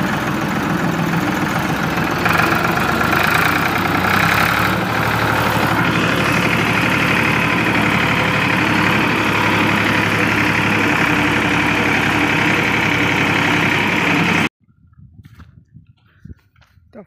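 A tractor with a rotary implement attached idles close by on a cold morning, a steady low rumble that holds evenly for about fourteen seconds, then cuts off abruptly into quiet.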